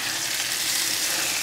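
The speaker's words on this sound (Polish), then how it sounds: "I teraz wrzucam mortadellę" Sliced mortadella fries in a pan with a loud, steady broadband sizzle that holds even throughout, with no talking over it.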